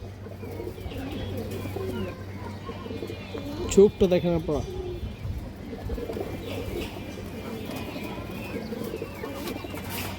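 A big red female pigeon of an old line coos close by in low throaty rolls, with a louder burst of calls midway, as someone speaks over the steady murmur of other birds.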